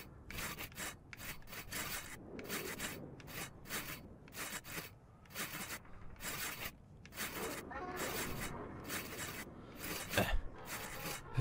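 Sawing with a hand saw through wood in the video game Brothers: A Tale of Two Sons: steady, repeated rasping back-and-forth strokes in bursts, moderately close, with faint talk in places.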